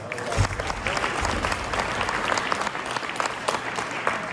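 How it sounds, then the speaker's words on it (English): Applause from attendees at a soil health stewards annual meeting, a moderately sized group clapping steadily at close range, with a few heavier thumps in the mix. "Let's give another round of applause for the great lunch that we had today."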